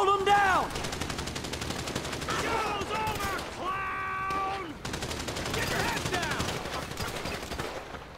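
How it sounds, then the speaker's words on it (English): Rapid automatic gunfire from a shootout in GTA 5, continuous crackling bursts mixed with game sound effects and tonal in-game noises, with voices shouting over the shooting. "So I guess we're shooting our way out of here"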